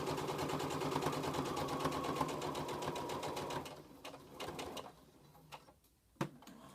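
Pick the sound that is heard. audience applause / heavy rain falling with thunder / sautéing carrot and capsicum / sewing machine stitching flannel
sewing machine stitching flannel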